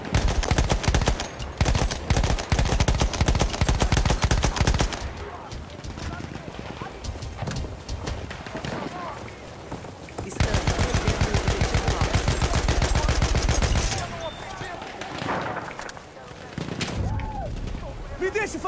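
Rapid bursts of machine gun fire in the Battlefield 1 Conquest mode on PS4, loud repeated rattling volleys in two long stretches with quieter battlefield ambience and hoofbeats between them, a voice talking over the action.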